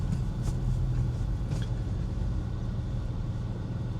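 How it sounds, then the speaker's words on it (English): Steady low engine rumble inside a rebuilt Porsche Boxster on a test drive to the MOT centre, a constant drone with road noise and no talking. "the third test drive from my Porsche Boxster that I rebuilt myself. I'm off to the MOT center right now"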